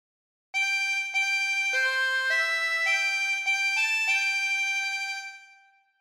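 Harmonica playing a slow phrase of God Defend New Zealand, a series of clear sustained reedy notes changing step by step, steady and alone, fading out at the end.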